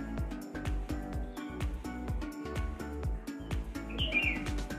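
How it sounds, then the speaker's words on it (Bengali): Bulbuls calling outdoors on a bright morning after rain, short high chirps scattered over steady repetitive low thumping from nearby, the birdsong fairly faint and intermittent. "বুলবুলি পাখি ডাকছে"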